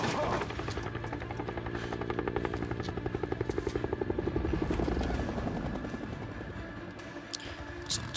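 A helicopter hovers close by in the video game Days Gone, its rotor chopping in a steady fast pulse that swells and fades over several seconds, with faint talk underneath.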